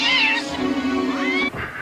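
A cat gives a drawn-out, wavering meow, followed by a shorter second meow, close and clear.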